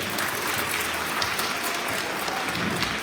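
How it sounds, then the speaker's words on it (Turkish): Audience applause at a school book fair in Merzifon, steady dense clapping from a crowd filling the whole moment, continuous and fairly even with no speech over it. "Kocaman bir alkışı bence siz onlara yapalım."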